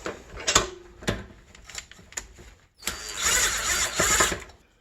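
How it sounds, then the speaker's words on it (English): A small power drill backs out a fine-threaded bolt on a Honda CRF250R fork, whirring in short bursts, then running longer with a rising mechanical buzz, close by amid clicks and handling noises. "I like to use my little drill and back it out."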